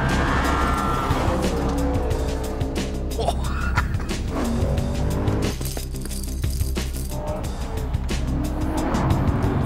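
An Audi RS4 with a V8 engine and four-wheel drive races down a road, its loud engine roaring continuously at high revs with gear changes and possible tyre noise, close and dominant throughout.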